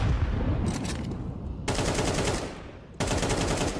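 Rapid bursts of automatic gunfire from a Counter-Strike esports match, three dense volleys of close, sharp shots separated by brief gaps, with no talk over them.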